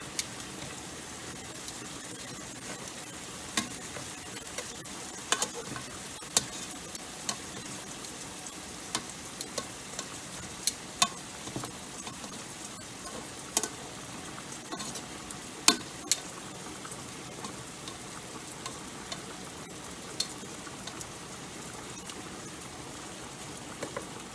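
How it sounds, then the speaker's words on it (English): Rotini pasta being stirred in a pan, a sizzling, rain-like bubbling patter with scattered scrapes and taps of the utensil against the pan, close and continuous, without voices. "we want to give our pasta a stir periodically just to make sure that the noodles aren't getting stuck to the bottom of the pan"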